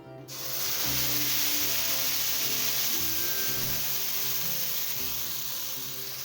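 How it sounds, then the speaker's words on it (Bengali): Ground spice paste hits hot oil in a pan while cooking a Bengali pomfret fish dish, setting off a loud, steady sizzle and hiss that flares at once and holds close and continuous throughout. "এই সময় দিয়ে দিচ্ছি পেস্ট করা মশলার মিশ্রণ"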